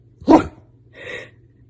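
A dog gives one sharp, loud bark on command, followed about a second later by a softer, breathy huff, in an otherwise quiet indoor space.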